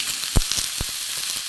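Vegetables for Bengali shukto frying in oil in a pan, a steady close sizzle with a few sharp pops and stirring clicks, no talking.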